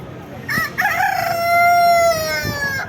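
A rooster crows loudly and close by, one long drawn-out call that rises and holds before trailing off.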